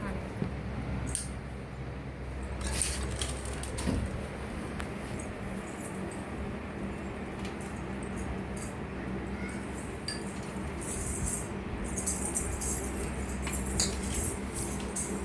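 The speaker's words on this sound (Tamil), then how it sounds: "பார்த்தீங்கன்னா காளானை வந்து இப்போ சுத்தம் பண்ணியாச்சு. இப்போ வந்து கட் பண்ணிக்கலாம்." A knife cutting cleaned mushrooms on a board for mushroom gravy, producing soft, scattered taps and clicks over a steady low background hum, with some faint voice-like sound in the room.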